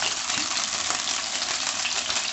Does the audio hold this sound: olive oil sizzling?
yes